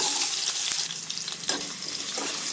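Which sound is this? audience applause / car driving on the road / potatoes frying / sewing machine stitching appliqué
potatoes frying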